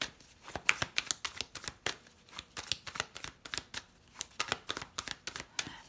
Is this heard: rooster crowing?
no